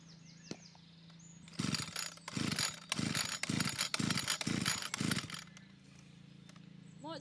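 Stihl FS81 string trimmer being pull-started: six rapid, loud recoil-cord pulls in a steady rhythm, each a rasping mechanical whir, with no engine catching, between quieter stretches of background hum.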